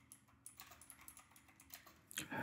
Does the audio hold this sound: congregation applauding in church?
no